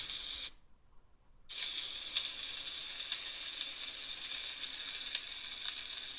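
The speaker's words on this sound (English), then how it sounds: "We're gonna grab our steak because it's time to flip it." A steak sears in a hot pan just after being flipped for a reverse sear, a brief quiet gap and then a strong steady hiss and crackle of sizzling fat close by, with no talk.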